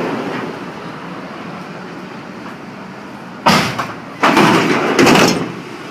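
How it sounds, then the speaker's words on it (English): Cargo door on a 2002 Dodge Ram Van 3500 long-wheelbase van, heard as three loud, close thuds and rattling slams after a quiet stretch of idling background. "The door doesn't seem to be closing too good."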